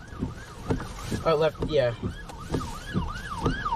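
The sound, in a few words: ambulance siren passing on the road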